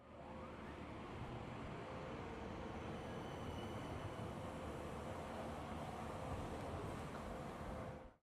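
A steady rumbling roar of an out-of-service Parramatta Light Rail tram rolling past, broad and constant with a faint tonal hum, fading out at the end.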